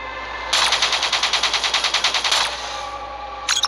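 Rapid minigun burst in the Call of Duty Black Ops 3 video game, a loud, steady stream of evenly spaced shots lasting about two seconds, then near silence and a brief final crackle.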